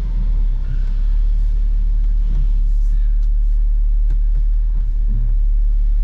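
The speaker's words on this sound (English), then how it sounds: "And obviously we're driving at this stage." A Saab 9-3T car rolls slowly backwards and forwards inside a cramped shop, giving a steady low engine rumble with faint tire scuffs, close by and continuous.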